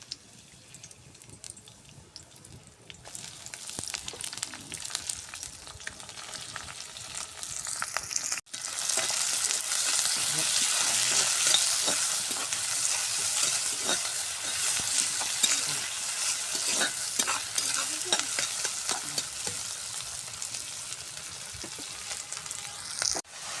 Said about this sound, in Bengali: প্রথমে কড়াইতে তেল দিয়ে দিয়েছি, তারপরে রসুন দিয়ে দেবো তেলের মধ্যে।